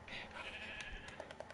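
Sheep bleating in Minecraft, a short nasal bleat at the start, followed by quick clicking keyboard taps, faint and close.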